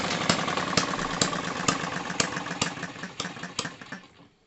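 A tiny Retrol Musa HM-01 hit-and-miss engine runs close by, firing in a steady series of sharp, regularly spaced beats over a continuous mechanical hum, then trailing off into quiet near the end.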